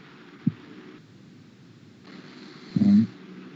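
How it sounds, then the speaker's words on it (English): Someone snores in a lecture room, with two low, rough rumbling breaths, one short and one longer, standing out over a quiet room hum, with no speech. "Is that snoring? Someone snoring?"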